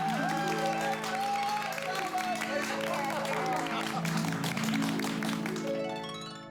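At a housing society gathering, a crowd claps for the society secretary under a loud sustained music sting, the clapping mixed into the music before it all fades out at the end.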